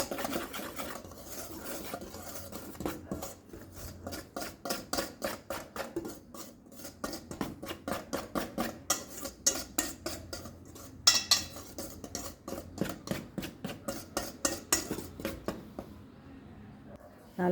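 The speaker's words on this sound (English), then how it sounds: "Mix this all together and keep aside." A utensil whisks self-rising flour mixed with baking soda in a bowl for Yorkshire pudding, making rapid rhythmic scraping clinks against the bowl in a long steady run, then stopping.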